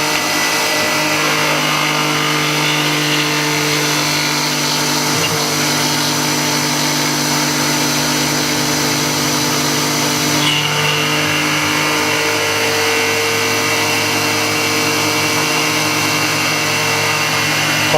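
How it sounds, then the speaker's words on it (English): An end mill cutting metal on a milling machine, rolling chips with a steady loud whine and machine hum that runs unbroken, with a slight shift in tone partway through and no voices. "I never get tired of watching an end mill"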